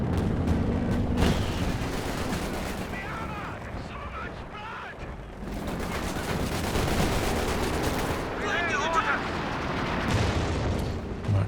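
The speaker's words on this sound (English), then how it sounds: "another assault artillery coming in" Assault artillery barrage in Company of Heroes 2 during a 3v3 match on La Gleize, with dense booming impacts and gunfire rolling continuously, alongside a caster narrating throughout.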